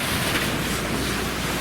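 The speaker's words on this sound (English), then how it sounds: "Australia sun, big waves, surf, hot weather." Big ocean waves and surf rolling onto an Australian beach on a hot, sunny summer day, a steady broadband roar of breaking water with some wind noise and no voices.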